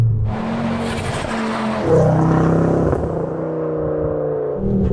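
A Ford Focus RS Mk2 tuned to 430 hp roars and holds a steady high drone as it accelerates, with a brief surge in revs partway through, loud and close with no talking.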